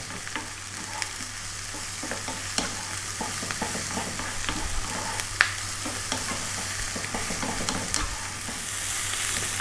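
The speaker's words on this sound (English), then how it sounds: "again stir frying this around, keep it moving fairly often" Vegetables stir-fried with black pepper sizzle steadily in a hot pan, with frequent scraping and clinking of a utensil as the food is kept moving, close and fairly loud with no talking.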